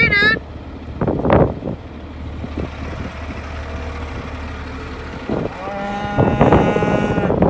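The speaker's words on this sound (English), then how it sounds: "Apparently there's a cattle drive going on." Cattle moo loudly several times during a cattle drive in an October snowstorm, one long bellow early and more calls toward the end, over steady wind and a low engine rumble.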